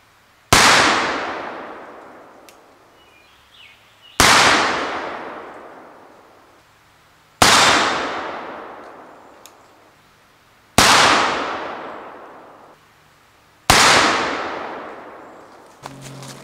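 Five loud, close pistol shots fired at a target in a postal match, evenly spaced about three seconds apart, each a sharp crack trailing off into a long decaying echo, with no talking.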